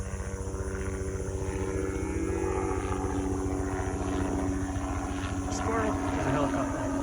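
Helicopter flying overhead on a cattle farm, a loud steady rotor chop with rhythmic low thumping and engine whine throughout, while a person talks over it.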